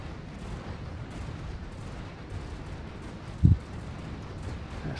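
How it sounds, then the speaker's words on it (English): A single dull, heavy boom of torpedoes firing in a Stellaris space battle rises briefly from a steady, low rumbling soundscape. "there's so many torpedoes firing around"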